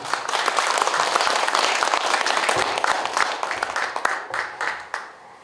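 Sustained applause from an audience at a Korean arts awards ceremony, many hands clapping steadily and thinning out into scattered claps at the end.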